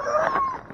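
Sled dogs at a Canadian dog sled race give a brief, fairly loud high whimpering yip with a thin whining tone, heard alone.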